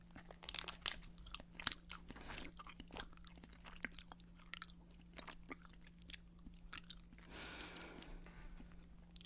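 Feastables chocolate eaten close to the microphone, with sharp crunchy bites followed by repeated moist chewing and smacking in an irregular rhythm, quiet apart from the eating.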